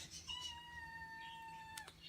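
A cat gives one long, drawn-out meow for attention, steady and fairly close, with a short break at the end and faint room noise around it.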